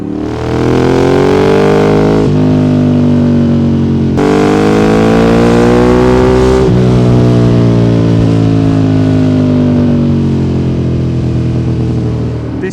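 A Ducati 848 motorcycle engine revs hard and pulls up through the gears, each loud rising howl cut by a brief gap at the shift, close and continuous for the whole stretch.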